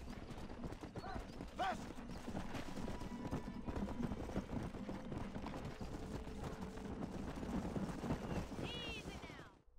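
Horses clip-clop steadily on the ground while ridden, their hooves a busy continuous rhythm, with occasional whinnies and a person speaking briefly over the hoofbeats.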